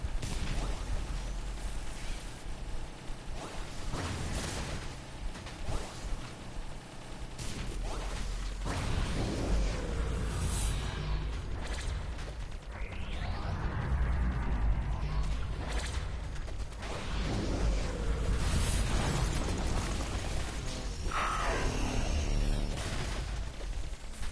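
Dense, chaotic action from the twin-stick shooter game Nex Machina, where a smart bomb detonates amid continuous whooshing, crashing and blasting effects that stay loud throughout with surging bursts.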